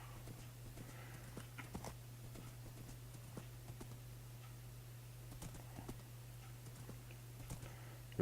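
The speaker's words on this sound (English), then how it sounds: "Let's take the horse for a run." A horse's hooves clip-clop in the video game Paradoxia, a steady walking rhythm of soft, close hoofbeats over a constant low hum, fairly quiet overall.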